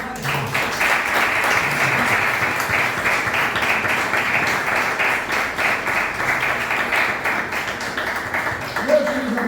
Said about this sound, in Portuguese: Então vamos dar uma salva de palmas, Senhor.